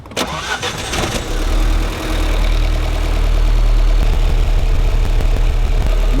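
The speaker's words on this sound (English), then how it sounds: "I'm going to start the car" A car engine cranks and catches near the start, then settles into a loud, steady idle that runs close by for several seconds with no one talking.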